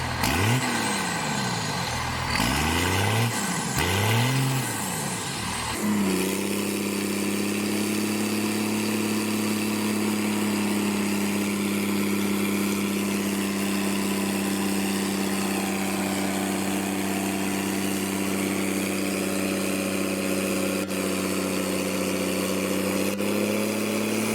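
A 7.3 Powerstroke diesel truck engine idles steadily and loudly up close, with a few rising and falling revs at the start before settling into a constant low rumble.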